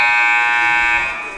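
A loud, sustained buzzer sounds at the end of the first half of a high school basketball game between Lincoln Prep and TRC Academy, holding steady before fading slightly at the end.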